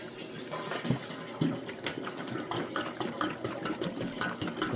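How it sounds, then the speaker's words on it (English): Water pours steadily into the gas tank of a 1958 Farmall 450 tractor, a continuous splashing, gurgling fill heard close up with small irregular bursts and no talking. "Alright, now it's time to start adding water."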